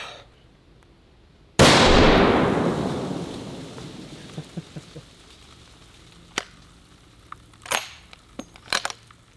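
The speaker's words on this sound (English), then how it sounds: "there's only one gun left to try. The 50 BMG. I feel like this ought to do the job." A .50 BMG rifle fires a single loud, close blast at an outdoor shooting range, with a long rumbling decay afterward, followed by scattered fainter cracks and clicks.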